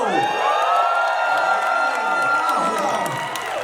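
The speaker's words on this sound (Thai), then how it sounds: "ขอเสียงกรี๊ดดังๆให้กับเมนเทอร์แพนเ ค้กแล้ว" A large studio audience at a televised modelling show screams and cheers loudly and continuously, high-pitched shrieks layered over a sustained roar of voices.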